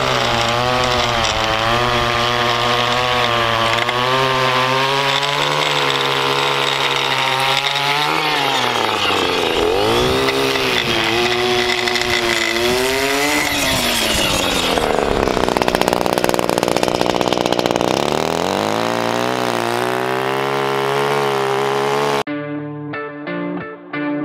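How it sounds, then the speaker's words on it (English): A gas-powered lawn edger runs continuously while edging a side yard, a loud buzzing two-stroke engine whose pitch rises and dips as the throttle changes, then cuts off near the end. "We're gonna grab the edger here. And we're gonna edge all this again."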